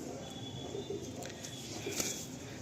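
Pigeons kept in loft cages coo softly, low murmuring calls repeating under a steady background hum, with a faint chirp near the end.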